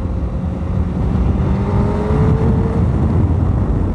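A Honda Fireblade CBR 1000 RR motorcycle accelerates hard, its engine roaring loud and steady throughout with a rising tone and a dense low rumble.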